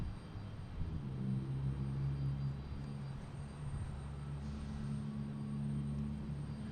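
A Scandinavian Airlines airliner arrives at Boston Logan International Airport, its engines a steady, fairly distant drone with a low tonal hum that swells slightly and holds throughout, with no voices.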